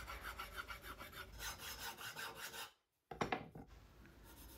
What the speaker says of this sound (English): I put them back in my vise and start filing up all the edges to make them nice and smooth